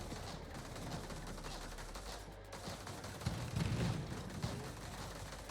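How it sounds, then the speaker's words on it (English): Machine gun fire from a customised combat vehicle in the game Terratech Legion, a dense run of rapid gunfire and impacts over a busy game soundscape, swelling louder in the latter half. "We're going to look straight at it with our machine guns"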